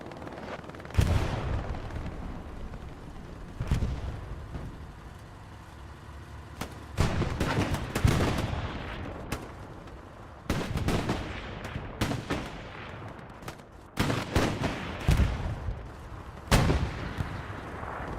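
Heavy tank cannon fire and explosions in the World War II shooter Hell Let Loose, a string of loud booming shots at irregular intervals with dense battlefield rumble between them.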